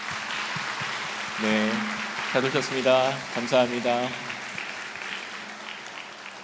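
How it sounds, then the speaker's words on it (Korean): A church congregation at a Handong University Sunday morning service claps warmly to welcome visiting guests. The moderate, patter-like applause runs under someone speaking. "잠깐 일어서시면 우리 따뜻하게 환영과 박수로 한번 맞이할까요?"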